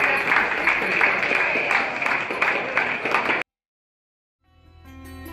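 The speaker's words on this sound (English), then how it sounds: "Round of applause" Applause for the winner of a go-kart race at Meridian Go-Karting, a dense burst of clapping from a crowd for about three seconds that cuts off abruptly, followed by silence and then quieter background noise.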